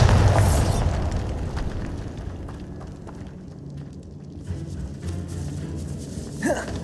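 Bombarda blasting spell detonating in the Hogwarts Legacy video game: a heavy booming explosion opens loud, then a rumbling decay trails off for several seconds before a sharp whooshing flare near the end.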